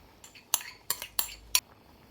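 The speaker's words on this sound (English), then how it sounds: "stirring gently to avoid breaking the chicken pieces" Cashew chicken curry stirred in a pot, with four or five distinct metallic clinks of a spoon against the pot's side spaced about a third of a second apart, close and fairly loud, with no talking.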